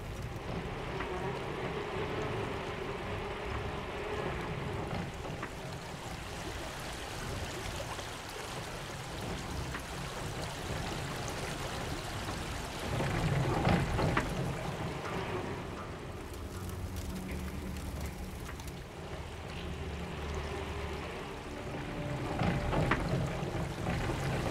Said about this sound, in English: we've added in the river sounds, and then the building sounds. So the creak of the sails, and also the bees